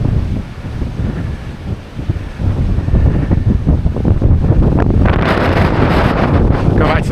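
High wind gusts buffeting the microphone along a seashore on a stormy night, a steady roaring blast that grows stronger and hissier toward the end, with a faint voice underneath.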